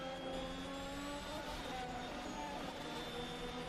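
Race cars including a Ferrari and a Red Bull drive in wet conditions around the Indianapolis Grand Prix circuit in a racing video game, giving a continuous high, whining engine drone with shifting pitch at moderate loudness.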